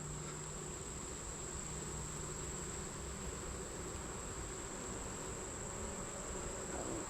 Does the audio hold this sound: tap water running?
no